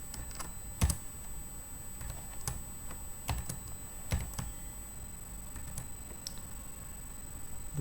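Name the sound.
typing a password on a computer keyboard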